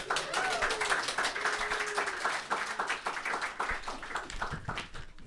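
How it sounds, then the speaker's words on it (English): An audience gives a round of applause after a poetry reading at a live event, dense clapping that starts strong and thins out over a few seconds, with voices talking underneath. "How about another round of applause?"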